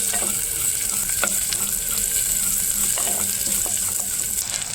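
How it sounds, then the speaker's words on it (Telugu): Onions and curry leaves frying in hot oil in a pan, a steady close sizzle with light stirring clicks and scrapes over it, no talking. "ఇవి కాస్త మగ్గిన తర్వాత కాకరకాయలు వేసుకోవాలి."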